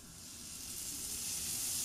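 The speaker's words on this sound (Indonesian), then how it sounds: "masukkan 2 siung bawang putih yang udah dicincang, tambahkan setengah bawang bombay yang udah diiris-iris, kemudian kita aduk dan tumis sampai harum" Minced garlic and sliced onion sauté in melted margarine in a pan, giving a steady close sizzle with a bright hiss that builds slightly and runs alone without talk.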